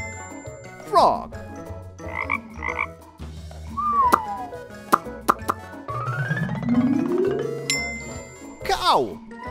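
A frog croaks in a couple of sharp, sweeping calls at the start and end, surrounded by bouncy plops, jingles and chime tones in a lively children's animal-sound setting.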